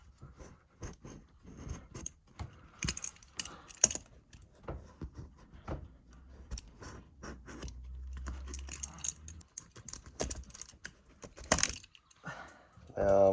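Rubber roof membrane cut around a plumbing vent, a run of faint close snips, scrapes and crackles in irregular bursts, with brief bits of talk and handling noise in between.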